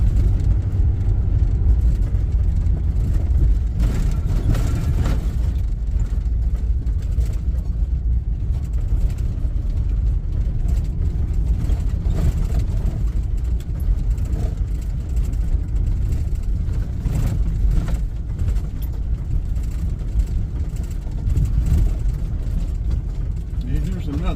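A four-wheel drive vehicle drives over rough ground at a hunting and fishing plantation area, a steady low engine rumble running the whole time with people talking over it.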